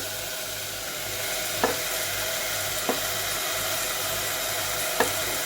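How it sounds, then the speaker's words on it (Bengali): Chopped papaya, squash, carrot, capsicum and tomato go into a pot of chicken stew, giving a steady loud sizzle with a few soft clinks of a spoon against the pot. "এবার আমি সবজিগুলো এতে যোগ করব"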